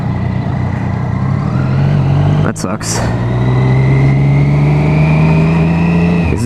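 A car with a 5.0 engine drives nearby with a steady low rumble that swells as it revs, heard up close alongside a person speaking briefly.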